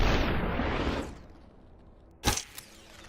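A single sharp gunshot crack from the SUPERHOT video game, brief and loud after a fading rushing sweep, followed by a small echoing tail in near silence.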